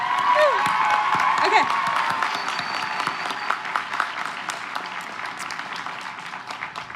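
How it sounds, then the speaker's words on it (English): A high school graduation audience for the class of 2021 at West Valley High claps and cheers with scattered whoops, the applause gradually thinning out while a voice speaks briefly. "Yes, please clap."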